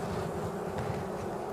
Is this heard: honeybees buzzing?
yes